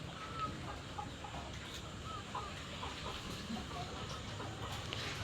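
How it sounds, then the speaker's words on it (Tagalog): Chickens clucking in a noisy farmyard, soft scattered calls over a steady low rumble of background noise. "Masyado daw po matapang ay ang manok na yan"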